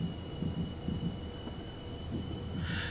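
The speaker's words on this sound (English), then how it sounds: "I have to realise that we're a little bit lighter now, so the train's a little bit more" An electric BR155 locomotive runs along the Cologne–Koblenz line in Train Simulator, giving a steady low rumble of wheels and motors with faint rhythmic clatter and a thin tonal whine, and a brief hiss near the end.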